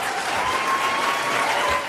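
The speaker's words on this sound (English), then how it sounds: "A rare moment of applause for school board members at last night's contentious meeting." Applause for board members at a contentious school board meeting, a steady wash of clapping from a crowd in a meeting room, sustained and even throughout.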